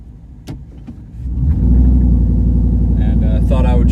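A car drives along a road on the way to Point Pleasant, West Virginia, its engine rumbling low and steady after a short pickup in revs, with a few faint higher sounds near the end.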